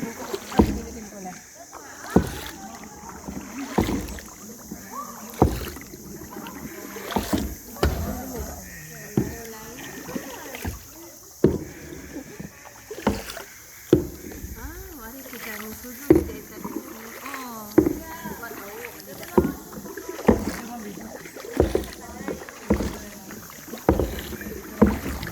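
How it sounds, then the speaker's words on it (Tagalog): Kayak paddles dipping and splashing at a regular rhythm on water near El Nido, Palawan, close and distinct strokes every second or two, with people chatting between them. "maganda pala mag-paddle backward"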